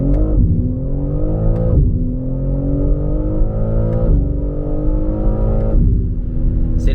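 A BMW M3 Competition launches hard from a standstill, its engine revving up sharply and climbing through several upshifts with brief drops in pitch between gears, loud and close from inside the car.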